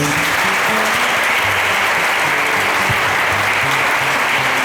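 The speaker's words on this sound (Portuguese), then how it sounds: "Você pode aplaudir o Senhor Jesus?" Church congregation at an evangelical Baptist service breaking into loud, sustained applause, many hands clapping together close by for several seconds without speech.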